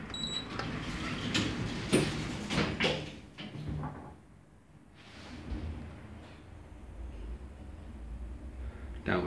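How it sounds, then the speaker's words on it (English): Station lift doors at Fratton Station slide closed with a whirring, rattling motor, then the sound drops to a quieter hum before the mechanism stirs again. "Doors closing."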